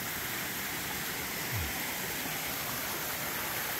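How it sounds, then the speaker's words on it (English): A small waterfall on a steep mountain stream pours steadily, a continuous even hiss of rushing water, moderately quiet, with no voices. "But that's the little waterfall we got this morning."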